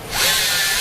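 A Bosch GSB 120 LI 12V cordless drill runs in screwdriving mode with its torque set to maximum. The motor whirs loud and close, rising quickly to a steady high whine for under a second.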